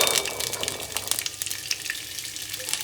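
Ground mixture for nali kayi pickle sizzling and frying in a pan, a steady close crackle with soft stirring scrapes throughout.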